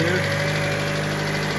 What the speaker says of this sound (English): just start the vehicle.